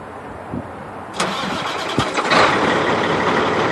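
A 2007 Peterbilt 386 semi truck's diesel engine cranks briefly after glow plug warm-up, then catches and roars to life, settling into a loud, rumbling idle close by.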